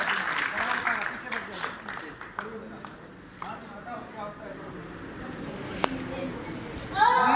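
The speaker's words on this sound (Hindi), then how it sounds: "तालियां बजा दो मेवा की" Applause from a gathered audience at a spiritual discourse, a fairly dense burst of clapping at the start that thins into scattered claps and murmuring, with voices in the background.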